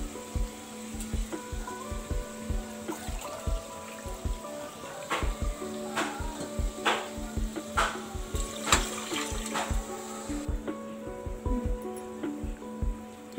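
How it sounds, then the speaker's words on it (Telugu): Water is poured into a pot of chicken biryani with rice, a running splash broken by irregular low plopping and gurgling pulses, close and moderately loud. "1 గ్లాస్ రైస్కి 2 గ్లాసులు వాటర్ పోసుకోవాలండి."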